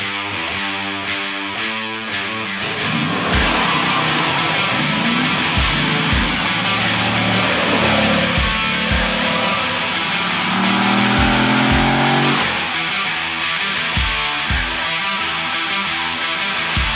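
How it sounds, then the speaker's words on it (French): Loud, close Moto Guzzi V85 TT Travel motorcycle engine revving and accelerating with rising and falling pitch, continuous throughout, under a layer of music. "l'essai d'une moto de baroudeur, la Moto Guzzi V85 TT Travel"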